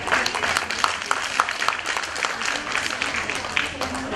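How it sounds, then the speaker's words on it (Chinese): Audience applause welcoming a performer at a Tang poetry recital in Taipei, a steady dense patter of many hands clapping throughout, moderately close and unbroken. "来，我们热烈掌声欢迎。"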